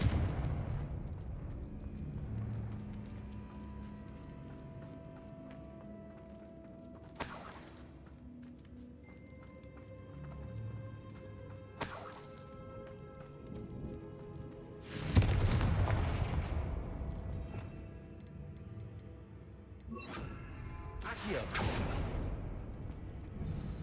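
Spell blasts in the Hogwarts Legacy video game: several sharp booming explosions and shattering impacts, spaced a few seconds apart, with the loudest burst in the middle and rumbling ambience between them.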